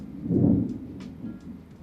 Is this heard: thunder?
yes